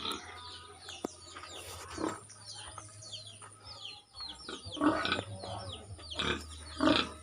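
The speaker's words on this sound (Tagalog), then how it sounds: "Nasugat yung baboy." A pig that has hurt itself rooting at its pen door squeals in short, scattered bursts, moderately close, with chickens clucking and faint background noise around it.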